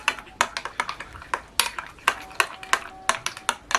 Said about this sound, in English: so I'm going to go ahead and mix that in.